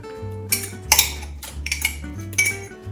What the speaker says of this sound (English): I'll mix until everything is combined